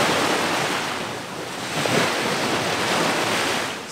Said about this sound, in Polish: Sporą falę dzisiaj mamy